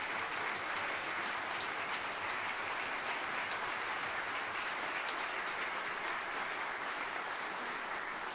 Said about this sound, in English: can we have one more round of applause for Shannon and Garrett?